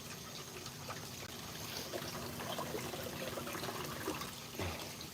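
A garden hose runs water during a gold prospecting cleanup, giving a steady soft trickle and splash that continues without a break at low volume, with no talk over it.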